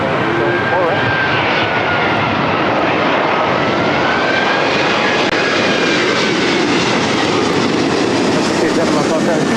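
Loud, continuous roar of jet airplane engines at LAX airport, a steady broadband rumble with a slowly shifting whine overhead, filling the whole stretch without pause.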